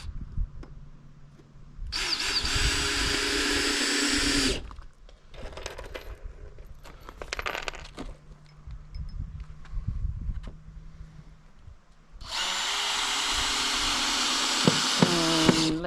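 A power drill drives screws into a wooden floor during an I-beam floor installation, with two long loud whirring runs and shorter bursts between, close and with no voices, the last run ending in sharp clicks.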